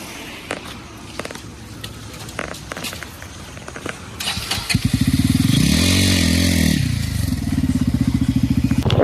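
A motorcycle on a mountain road in Sikkim starts with scattered clicks and rattles, then its engine revs up loud and close with a throbbing, pulsing exhaust note that rises and falls.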